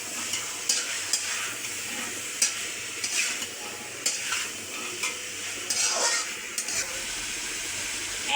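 Bitter gourd and potatoes frying in a pan with hilsa fish, a steady sizzle with intermittent stirring scrapes and clinks spread across the stretch.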